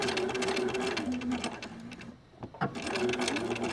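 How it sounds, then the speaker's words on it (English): A sewing machine stitches a mitered corner in a steady, close mechanical whir, briefly slowing and pausing near the end before running again. "now I'm just going to sew right on my line, right down to the end"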